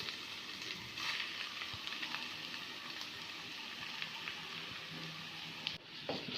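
Potato paste stirred into spices frying in a pan for aloo paratha filling, giving a steady close sizzle with scraping stirs throughout and a brief dip near the end; no talking.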